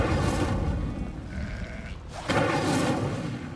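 Sheep bleat in the Hogwarts Legacy video game, loud and close, with several overlapping calls over a dense busy background and no talk in between.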